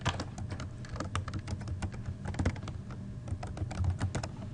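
Quick, irregular keystrokes on a computer keyboard as a username and password are typed, with close, crisp clicks in uneven bursts at a fairly faint level.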